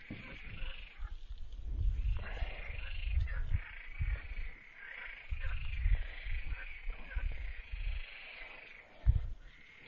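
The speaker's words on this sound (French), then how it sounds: "Je sais pas si vous entendez dans le micro le chant des grenouilles." Frogs croak in a low, pulsing chorus near water, with repeated throaty calls rising and falling against a quiet outdoor background.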